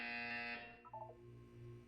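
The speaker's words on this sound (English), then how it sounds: "When you hear the buzzer, look down at the floor." A Portal 2 test-chamber buzzer sounds as a loud, sustained electronic tone for about half a second, then cuts off and gives way to a softer, lower synthetic hum with a few brief tonal blips.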